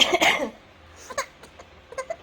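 A short burst of coughing up front, followed by a few faint breathy sounds and small vocal noises in a quiet room.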